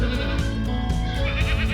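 Goats on a silvopasture prairie farm bleat loudly and close by in a continuous, wavering cry, with no talking.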